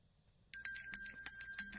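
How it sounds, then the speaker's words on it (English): A small metal bell rings out in a quick series of bright, clear strikes with a sustained shimmering tone, close and loud, starting suddenly after a moment of silence. "Here's the bell."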